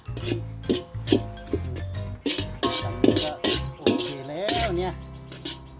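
Metal utensils scrape and clink against a wok while sweet leaf vegetable is stir-fried with oyster sauce, a busy run of repeated scraping strokes and clatters, fairly close and loud, with no talk.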